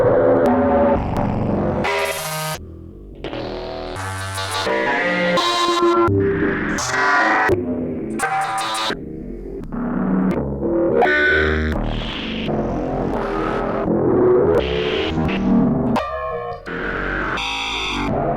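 Generative synthesizer patch run through delay and distortion effects, producing loud, dense, ever-shifting timbres that swell and cut out in bursts, with echoing tones bleeding into one another throughout.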